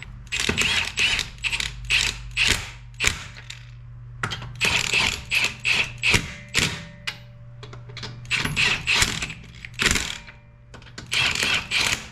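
A ratchet snugging bolts on a 2014 Toyota Camry during a 125k-mile service and tire rotation, heard as rapid, loud clicking bursts in repeated runs with brief pauses between them.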